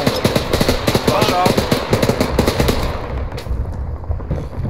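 Rapid gunfire crackles in the Arma 3 military video game, dense bursts of close shots in a fast rhythm for about three seconds before thinning out into scattered background noise.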